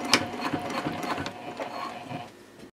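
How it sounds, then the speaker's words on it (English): A sewing machine back stitches over earlier stitches on a fabric sling, giving a steady close mechanical whir with rapid ticking needle strokes that runs for nearly three seconds and eases off at the end. "just sew over those previous stitches for a little bit and then back stitch"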